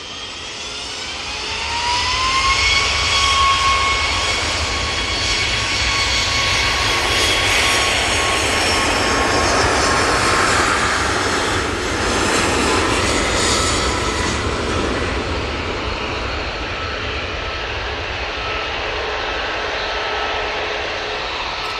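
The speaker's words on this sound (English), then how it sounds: "737 MAX 8 now on the roll for TUI." A TUI Boeing 737 MAX 8 on its takeoff roll at Manchester Airport, a loud, sustained jet engine roar that builds and holds steady for around twenty seconds, with a rising turbine whine early on.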